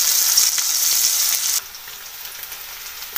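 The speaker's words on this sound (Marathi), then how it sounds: "आता आपण त्याच्यात कांदा घालू" Chopped onion hits hot oil in a pan with a loud, bright sizzle that drops sharply after about a second and a half, leaving a softer, steady frying hiss.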